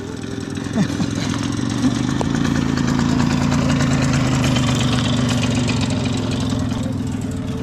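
A moped engine that had stalled runs and idles after being restarted, a steady close mid-pitched putter with a rhythmic low chug throughout, on a roadside in southern Portugal.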